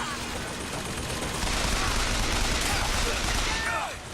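Rapid gunfire in a BioShock Infinite rooftop fight, a dense continuous barrage of shots that stays loud and steady for several seconds, then eases slightly at the end.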